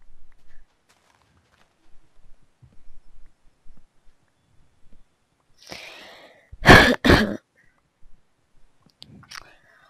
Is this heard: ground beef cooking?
no